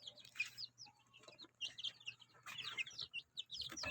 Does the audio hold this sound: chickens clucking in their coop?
yes